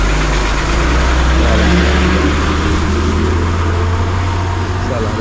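A bus engine running as the vehicle pulls up at a village stop near Sangameshwar, a steady low rumble and idle throughout, with people talking nearby.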